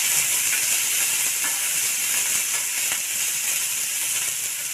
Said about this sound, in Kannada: ಈಗ ಒಂದು ಅರ್ಧ ಚಮಚ ಎಣ್ಣೆ ಹಾಕ್ಕೊಂಡು ಫ್ರೈ ಮಾಡ್ಕೊಳ್ಳೋಣ